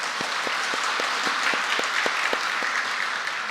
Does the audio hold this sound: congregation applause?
yes